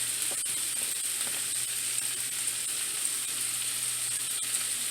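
Vegan cabbage and noodles fry in a crowded frying pan, giving a steady, close sizzle and hiss that holds even throughout with faint stirring clicks and no talking.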